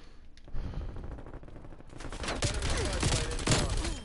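Bursts of AK-7 automatic rifle fire in a Call of Duty–style shooter, with rapid overlapping shots that grow denser and louder in the second half, loud and close, with no talk.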